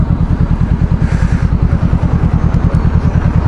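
A Honda CBR500R motorcycle engine runs steadily and loudly up close, a continuous throbbing pulse with no speech over it.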